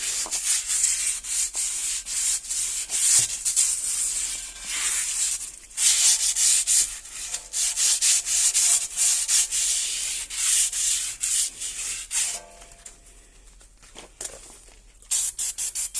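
Steady close rubbing and scrubbing on both edges of a brake part, a continuous harsh hiss with short breaks and a quieter stretch near the end.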